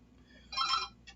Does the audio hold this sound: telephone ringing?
yes